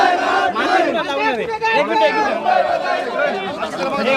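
A packed crowd at a Manoj Jarange Patil rally in Mumbai roars with loud, overlapping shouts and chants, voices surging together close by without a break.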